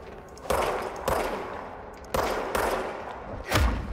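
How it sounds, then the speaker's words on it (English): Gunfire in the video game Control, several loud sharp bursts of shots at irregular intervals, each with a rolling decay, close and dominant with no talking. "I guess we gotta shoot some more guys."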